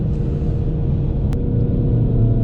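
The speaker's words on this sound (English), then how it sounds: "this old man in the Camaro just pulled" An old man's Camaro pulls away beside a stock Hellcat widebody on the road, its engine giving a loud, close, continuous low rumble.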